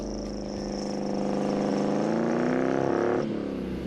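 A vintage Apollo 3500 GT sports car with an American engine, a loud, close engine note that climbs steadily as it accelerates and then eases off near the end.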